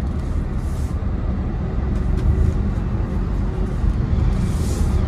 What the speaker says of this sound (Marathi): ट्रॅफिक, जसं आता मला भेटलं इकडे.